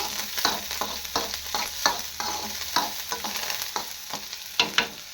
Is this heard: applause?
no